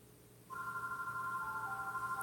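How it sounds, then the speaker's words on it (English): A telephone rings in the background of a home algebra lesson stream, its steady electronic tone starting abruptly halfway in and holding faintly through the short clip. "Sorry for the phone in the background."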